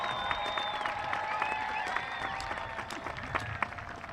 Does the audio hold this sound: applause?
yes